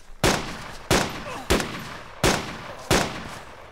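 Five loud, evenly spaced gunshots ring out one by one from a firearm in DayZ, each a sharp crack with a short decaying tail, with nobody talking between them.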